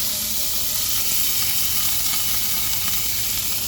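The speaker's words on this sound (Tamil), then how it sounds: "வெங்காயத்தலை போட்டு வைக்க எண்ணெய் நல்லா காஞ்சிட்டு" Onions with curry leaves frying in well-heated oil for a chicken dish, a steady close hissing sizzle that stays even throughout, with no voices over it.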